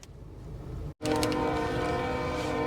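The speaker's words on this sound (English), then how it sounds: "Seriously, train." A train rolls past at close range, a loud steady rumble with sustained horn-like tones and rail noise after a brief drop-out, continuing without speech.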